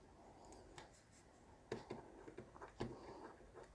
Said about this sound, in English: Let's write it down.